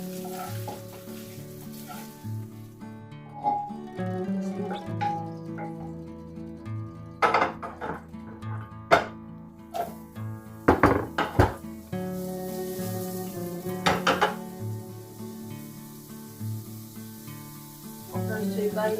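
Crispy fried lardons tipped into a pot of beef for slow-cooker beef bourguignon, with steady sizzling and several sharp clattering bursts of pan and utensil contact in the middle, up close and without talk.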